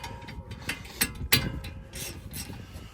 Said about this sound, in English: I'm using this baby ratchet to get it off